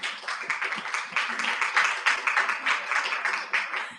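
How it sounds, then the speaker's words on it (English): A smaller audience at a medical student conference claps to welcome the jury, individual hand claps clearly distinguishable in a quick, uneven rhythm, fairly close and steady throughout. "Please let's welcome them with the applause."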